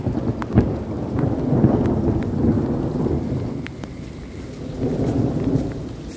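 Rain falls steadily during a thunderstorm directly overhead, with deep rolling thunder rumbling loud and near. Scattered drops tap against surfaces throughout.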